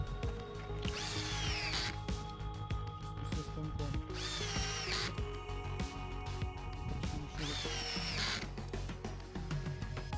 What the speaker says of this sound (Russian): крутим мы и первым, и вторым шуруповертом на второй скорости